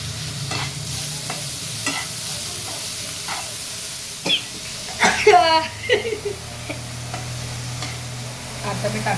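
Onion frying in hot oil in a pan as it is stirred, a steady sizzle with scraping stir strokes and a louder burst of sizzling midway; someone talks over it.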